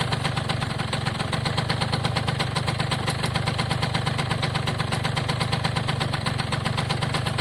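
An Italjet pit bike engine idles steadily with the choke off, a loud close buzzing putter with a fast even pulse that holds unchanged throughout, with no voices.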